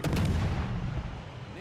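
Warship main-battery salvos in World of Warships: Legends, a heavy booming blast at the start decaying into a rumbling roll, loud and close, with no talk over it.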